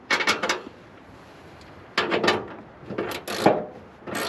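Nuts and bolts being tightened by hand on a Chevrolet Suburban, giving short bursts of metallic clicking and rattling with gaps of quiet between them, close and moderately loud, with no talking.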